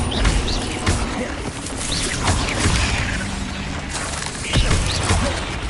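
An Incendio fire spell is cast in Hogwarts Legacy combat, giving roaring whooshes and booming bursts layered over busy, overlapping battle effects, fairly loud and continuous for several seconds.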